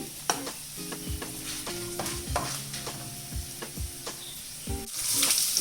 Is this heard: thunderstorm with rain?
no